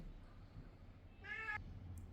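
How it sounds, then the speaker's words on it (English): A cat meows once indoors, a short clear tonal cry rising over a low steady room hum, fairly close, with no talking during the call. "I got a little disturbance from my cat"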